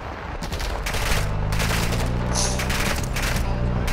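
Gunfire in Call of Duty DMZ cracks in a dense burst of rapid automatic shots, loud and close, with booming echoes and a brief high whine partway through.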